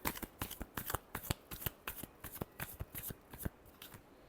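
Tarot cards are shuffled by hand in a quick, crisp riffle of close, sharp slaps and rustles that repeat steadily with no talk.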